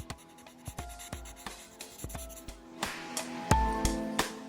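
A Copic marker colours on paper in teal shades, making a quick series of close, dry strokes and scratchy rubs in an uneven rhythm, with no voices.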